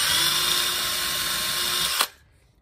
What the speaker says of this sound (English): So you want to get the right size drill bit that matches the thickness of the nail.